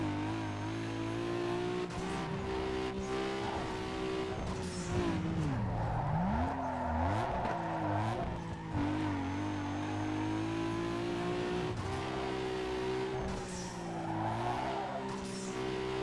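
Engine roar and tire squeal from a car race in Need for Speed Underground 2, a Nissan Skyline with a stock engine revving continuously with shifting pitch and repeated skids, loud and steady throughout.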